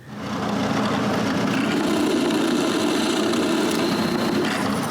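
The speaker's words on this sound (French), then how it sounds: "Après les avoir marquées, je leur perce un trou au centre." Small wooden washers being drilled through the center, a continuous steady whirring drill tone after a brief start, loud and alone without speech.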